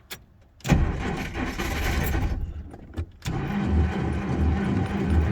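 A 1950 Plymouth Special Deluxe two-door with a suspected weak fuel pump being restarted: a short cranking whir that catches into a rough, loud idle, then falters briefly and picks back up, close by, with no talking.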